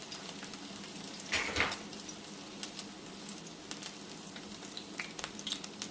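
Hot oil for frying salmon croquettes crackling in a pan on the stove, a steady close sizzle with a brief louder spatter early on and faint pops throughout, no talk.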